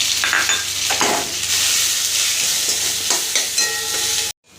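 Spice paste with garam masala sizzles in a pan while a spoon stirs it in a few scraping strokes, then everything cuts out abruptly at the end.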